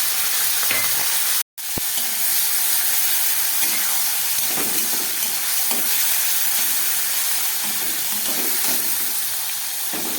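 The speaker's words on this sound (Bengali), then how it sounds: "চিংড়ি মাছটা ভাজা হয়ে গেছে" Small shrimp coated in salt and turmeric fry in oil in a kadai, giving a loud, steady hiss and sizzle with a brief cut near the start.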